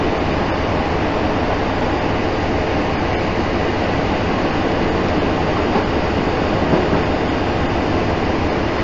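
Steady rumble and rolling clatter of a train moving along the tracks past a level crossing as it pulls into a station platform, close and continuous, with no voices.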